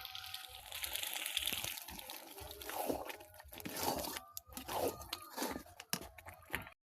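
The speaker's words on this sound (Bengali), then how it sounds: "এখন এটাকে নামিয়ে ঠান্ডা করে একটা স্ট্রেনারে করে চেলে" Boiled ripe mango pulp pushed through a strainer, giving wet squelching, scraping and crunching sounds in uneven bursts, moderately close and without talk.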